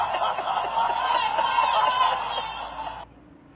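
Crowd of women cheering and whooping heard in a played-back recording, a continuous loud wash of voices that cuts off abruptly near the end.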